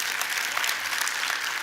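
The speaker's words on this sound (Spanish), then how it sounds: "Den un aplauso a Dios" Steady applause from a church congregation, broad and continuous, filling the whole moment without speech over it.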